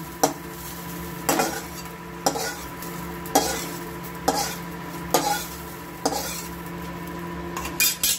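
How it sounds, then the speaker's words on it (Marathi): Dried red chillies roasting in oil in a pan for Kolhapuri dried mackerel chutney, with a steady sizzle and about eight sharp scraping stirs spaced at fairly regular intervals. "म्हणून अशा छानपैकी मिरच्या तेलामध्ये भाजून घ्यायच्या"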